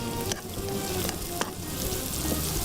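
Green chillies and garlic frying in oil on the stove, a steady close sizzle with a few sharp crackles and scrapes, no talking.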